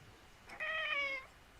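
A cat meows once, a clear harmonic cry of about half a second, close to the microphone in a quiet room.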